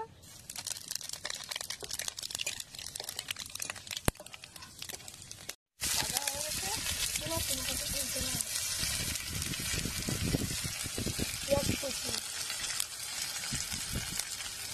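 Panch phoron five-spice seeds and chillies frying in hot oil, a loud continuous crackling sizzle with dense popping, briefly cut off midway and then resuming strongly, close and unaccompanied by talk.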